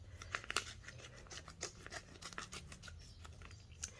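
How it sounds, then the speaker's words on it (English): Small scissors snip open a nail wrap package with a quick series of sharp, faint clicks and crisp cuts, close and quiet with no talking. "I usually just go ahead and cut it with my little scissors"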